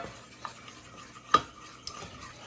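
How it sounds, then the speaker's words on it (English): Clarified butter and flour are stirred together into a roux in a pan, with quiet scraping and swirling strokes and one sharper clink of the utensil midway. "So you'll start out mixing both the clarified butter or whatever oil or animal fat you use with the equal parts flour."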